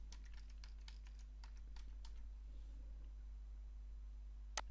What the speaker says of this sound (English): I'm just going to type Charminster